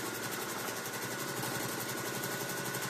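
A sewing machine stitching free motion quilting on a mini quilting frame, running in a continuous fast, even hum with rapid rhythmic needle pulses, close and steady throughout.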